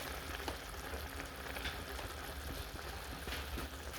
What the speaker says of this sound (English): These will cook on low heat until your meat is softened enough